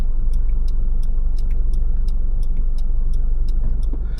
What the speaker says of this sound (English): So give the left indicator.